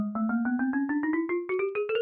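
Minecraft note blocks set on iron blocks play a rising tune of bright, bell-like plucked notes, about a dozen evenly spaced, each climbing slightly higher in pitch, clear and close.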